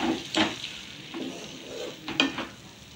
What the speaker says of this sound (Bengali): মশলাটা ভালো করে কষিয়ে নেবো, তেল ছাড়া ছাড়া হবে।